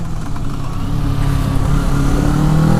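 A Kawasaki Z650 motorcycle from 2017 revving during a wheelie attempt, its engine note loud and close, climbing steadily in pitch as the throttle opens.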